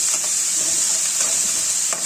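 Steady, dense sizzling of chopped onions frying in a hot pan, continuous and fairly loud throughout, with faint clinks of stirring.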